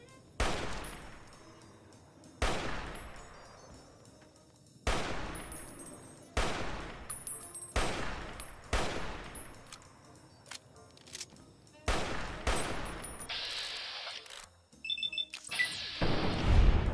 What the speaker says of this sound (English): He has a cool weapon. It's like a very long magnum pistol.